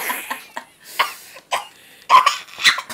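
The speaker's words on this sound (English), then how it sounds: "I'm coughing." Several coughs in a row, harsh and close, broken by short pauses, some sounding raspy like throat clearing.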